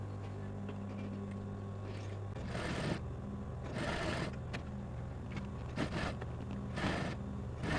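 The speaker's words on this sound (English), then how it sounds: "So I'm going to stitch it here using a stitch in a ditch method." A sewing machine stitches a reversible sleeveless shirt using the stitch-in-the-ditch method, its faint motor hum broken by several short bursts of rapid stitching.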